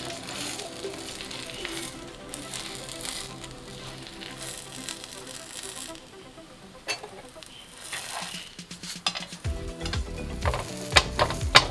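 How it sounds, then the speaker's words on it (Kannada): Dabeli shallow-fries in ghee on a tawa, a soft steady sizzle with occasional scraping and clattering that grows busier and louder toward the end, heard close with no clear talking. "ಸ್ವಲ್ಪ ಶಲೋ ಫ್ರೈ ಮಾಡಿಕೊಂಡ್ರೆ ಆಯಿತು"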